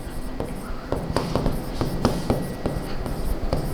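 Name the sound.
writing a sentence on a board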